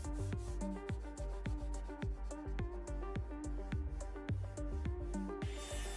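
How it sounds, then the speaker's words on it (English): Hand sanding of stained wooden crates with 120 grit sandpaper, a steady series of rhythmic rubbing strokes, close and fairly loud, with no voices. "I used 120 grit sandpaper to remove some of the stain and bring out that rough wood grain"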